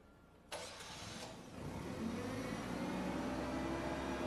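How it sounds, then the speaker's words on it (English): Propane-fuelled forklift engine starts with a burst, then settles into a steady, close mid-pitched running drone that continues alone without pause. "keep the engine running"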